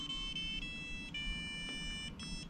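A small electronic buzzer on electric-assist roller skates beeps out a melody in short tonal phrases, thin and faint against low background rumble.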